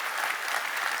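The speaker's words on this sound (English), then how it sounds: "Let's give them a warm round of applause, ladies and gentlemen" An audience at a corporate manufacturing forum claps warmly for colleagues, a dense, even burst of applause filling the hall for about a second.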